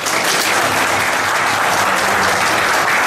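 An audience applauds steadily at a Turkish award ceremony, the Altın Haşhaş Awards, with dense, sustained clapping from a large crowd filling the hall.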